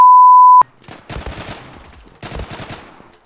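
Automatic gunfire in the online shooter Zula from an M93R, with two rapid bursts of shots after a short steady electronic beep. The bursts are loud and close, with no talking.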